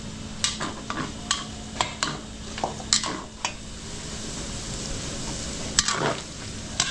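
Garlic frying in a pan while being stirred, a soft sizzle under a scatter of sharp utensil scrapes and clinks against the pan, close and moderate, no talk.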